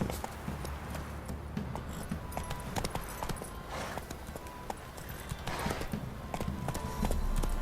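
Roach the horse's hooves clip-clop steadily at a walking or trotting gait in The Witcher 3, a continuous moderately loud rhythm with faint background ambience and no talk.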